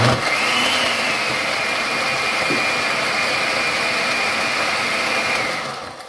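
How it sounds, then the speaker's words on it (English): Blender whirring as it purees Jamaican green seasoning, a steady high-pitched motor whine held for several seconds, close and fairly loud, easing off at the end with no talk. "we're going to blend up this here now"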